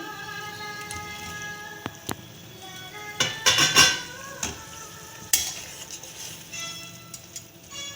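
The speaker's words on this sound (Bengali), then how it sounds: "গ্রেভিটা ফুটছে।" Egg paneer gravy cooks in a pan with a low, soft sizzle and bubbling, broken by a few sharp metallic clinks and a brief scraping stir close by.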